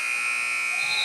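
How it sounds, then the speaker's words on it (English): End-of-quarter buzzer at a boys' high school basketball game, Father Henry Carr vs. King's Christian: a loud, steady electronic buzz holding for about a second with no talk over it. "And Menzies at the buzzer"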